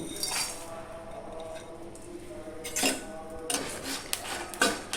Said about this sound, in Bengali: এগুলো আমি শুকনো খোলায় একটু ভালো করে ভেজে নেব